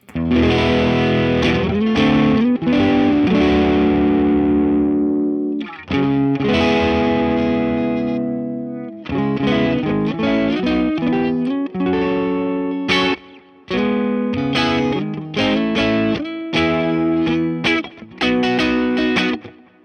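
An electric guitar run through an overdrive pedal in AmpliTube 5 plays loud, distorted chords and riffs, ringing out in bursts separated by brief silent gaps.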